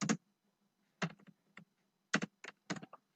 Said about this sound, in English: In this say block I will type a message.